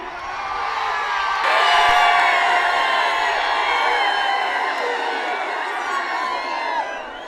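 A large outdoor crowd at a bull race cheers and whoops loudly and continuously, swelling early and then holding as a dense roar of shouting voices.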